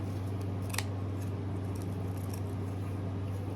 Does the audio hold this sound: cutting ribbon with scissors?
yes